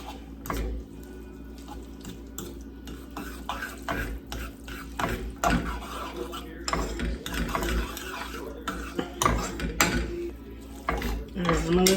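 Food stirred in a pot on a stove set to low: soft scraping and clinking of a utensil against the pot in irregular strokes, fairly quiet, with faint kitchen clatter around it.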